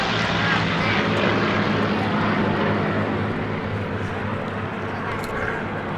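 P-51 Mustang propeller fighters passing overhead in formation at an Oshkosh airshow, a steady loud piston-engine roar that holds throughout and eases slightly toward the end.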